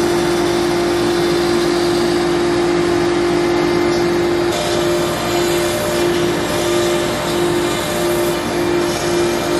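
Steady droning whine of a CNC router cutting dados for middle dividers into wooden boards, loud and continuous with a constant tone and no talk.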